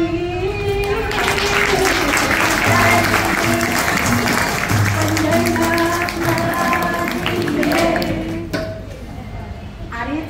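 An audience claps along steadily through a kirtan at a senior citizens' and women's association festival, rhythmic and full, mixed with singing and voices, fading near the end.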